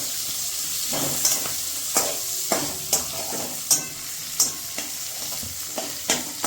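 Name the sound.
onions frying in a pan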